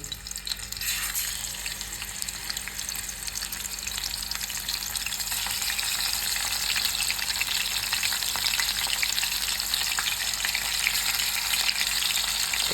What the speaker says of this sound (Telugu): ఆయిల్ అంతా మరిగిన తర్వాత సో ఒక్కొక్క ముక్క తీసుకెళ్ళి ఇందులో వేసేయడమే